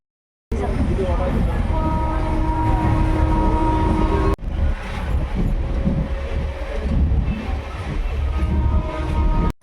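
Train rumbling past in the early morning at a village station, a loud, continuous low roar with steady tonal hums, broken by a sudden jolt halfway through and then continuing steadily.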